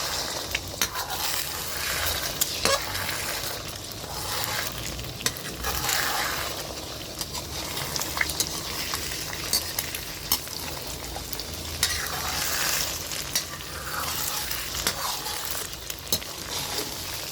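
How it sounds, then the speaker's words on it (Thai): Eggs fry gently in a pan over low heat, kept separate while making a stir-fried gourd dish, with a soft continuous sizzle broken by stirring scrapes and light clinks of a utensil, and no talking. "อันนี้เราจะทำไข่แยกนะ เพื่อความสวยงาม ระวังอย่าให้ไหม้นะไปเบาๆหน่อย"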